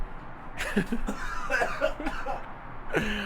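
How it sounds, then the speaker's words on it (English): Someone coughs a few times in short, rough bursts, with a little throat clearing mixed in, close to the microphone. "We got some coughs."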